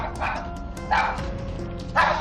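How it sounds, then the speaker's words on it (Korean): Small dog barking fiercely at a visitor to the home, giving three loud, agitated bursts of barks spaced about a second apart, close to the mic. "외부인이 방문하면 격하게 짖어댔던 루루"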